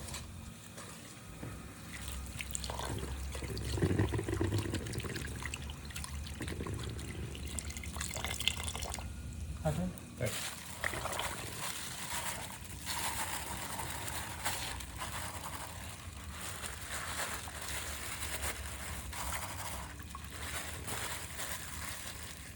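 Water is poured with a continuous splashing, trickling flow, moderately close, with scattered clinks and drips and no talking.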